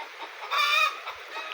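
Chicken in a remote village near the forest gives one short, tonal cluck lasting under half a second, moderately close, over a steady outdoor background hiss.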